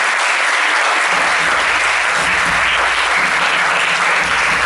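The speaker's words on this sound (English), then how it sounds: "Can we send a round of applause for Aditi and Karthik?" Audience applause at a youth retreat, a full, steady wave of clapping that swells in after a brief pause and carries on evenly throughout.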